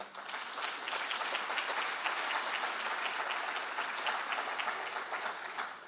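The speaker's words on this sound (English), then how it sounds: "May you give him a round of applause." Steady, dense applause from a large lecture audience, sustained at even loudness for several seconds before easing slightly at the end.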